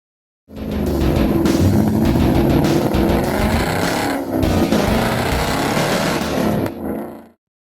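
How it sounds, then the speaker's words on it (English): A 2022 Hyundai Elantra N with a manual transmission on a street drive around Sonoma Raceway: a loud, close engine roar that rises and falls, with a brief dip midway, then fades out. "We're circling right now Sonoma Raceway, doing a street drive."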